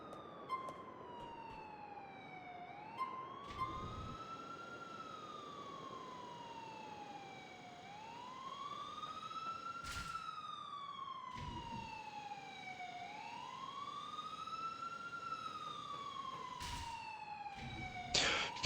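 Police sirens wail in the video game GTA IV, a steady rising-and-falling electronic siren cycling repeatedly over a continuous engine hum, with occasional sharp clicks and bangs cutting through.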